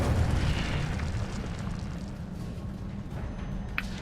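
Incendio fire spell cast in the Hogwarts Legacy video game, a dense, rumbling whoosh of flame with a heavy low boom at the start that slowly tails off into a crackling roar, loud and close.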